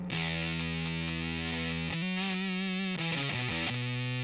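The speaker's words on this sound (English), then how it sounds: "let's first dial in a fuzz sound" Heavily fuzzed electric guitar through a fuzz effect pedal, sustained saturated chords ringing loudly on their own, then shifting through several changes in the last couple of seconds.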